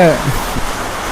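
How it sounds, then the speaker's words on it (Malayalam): Heavy rain falls as a steady, even broadband hiss throughout, with a brief voice at the very start. "നല്ല മഴ"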